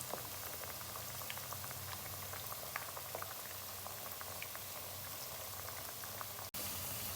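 Spinach pakoras fry in hot oil, giving a steady, dense bubbling and crackling sizzle with scattered pops that continues alone for several seconds and cuts out briefly near the end.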